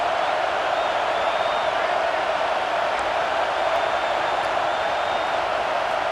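A stadium crowd in the College Football 26 video game roars continuously, a loud, dense wall of cheering that holds steady throughout, with no commentary over it.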